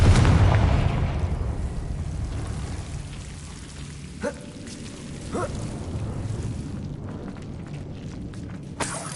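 An explosive Confringo spell in Hogwarts Legacy on PS5 sets off a few sharp, booming bursts over a steady, rain-like hiss, with a final crack near the end.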